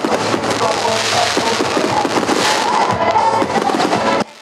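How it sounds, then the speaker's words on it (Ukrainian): Dense fireworks at a Hutsul festival in Rakhiv, Ukraine, crackle and pop continuously, a loud sustained barrage of bursts that cuts off abruptly at the end. "А фінальнім незабутнім акордом дійства став феєрверк"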